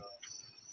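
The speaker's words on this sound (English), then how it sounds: "You can hear the crickets in the background" Crickets give a thin, steady high chirp in the background, faint and continuous, with soft low room noise beneath.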